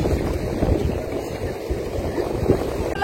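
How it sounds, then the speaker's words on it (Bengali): Strong gusty wind at the seashore buffets the microphone with a low, rough roar, hinting at open surf nearby. "সত্যি হেভি হাওয়া"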